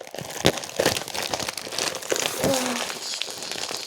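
Plastic film being handled and crinkled close by gives off crisp, irregular crackling and rustling throughout the short stretch.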